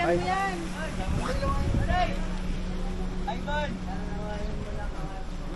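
A boat engine runs with a steady low drone and some wind noise while people talk over it close by.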